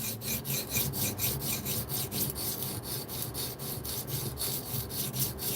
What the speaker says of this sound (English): This is the first time I've ever tried sharpening with Veneve stones.